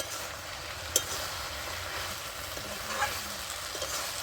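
Fried lentil dumplings (bori) are crushed and stirred into sautéed vegetables for a spinach and pui greens chorchori, giving a steady low sizzle with a few sharp spoon scrapes and taps against the pan.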